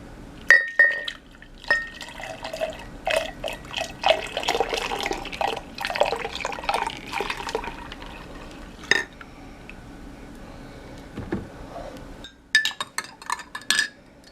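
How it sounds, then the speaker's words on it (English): Detox tea being poured from a cup into a bigger mug, with liquid splashing and trickling alongside light clinks of glassware, close up, fading to quiet before a few sharper knocks at the end. "I'm going to transfer my stuff over to a bigger mug"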